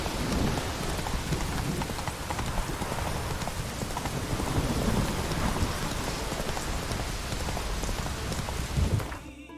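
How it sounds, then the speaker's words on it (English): Heavy rain pours down steadily in a dense, loud roar, with low rumbles of thunder underneath, in the video game The Witcher 3. "Raining fucking buckets."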